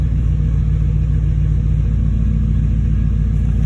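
A car engine idles on a cold start, running slightly rich: a steady, close low rumble with an even pulsing rhythm and no revving, alone without voices.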